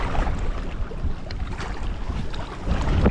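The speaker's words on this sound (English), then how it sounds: "It is plumb windy." Strong wind buffets the microphone at a lake shore during cold weather, a loud continuous rumbling roar with gusts rising and falling, no voices.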